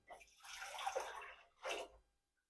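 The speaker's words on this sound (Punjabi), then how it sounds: "ਇਹਦੇ ਵਿੱਚ ਪਾਣੀ ਪਾ ਦੇਣਾ" Water splashing into a burnt cooking pot in two short bursts, a longer pour followed by a brief second splash, close and fairly quiet with no talking.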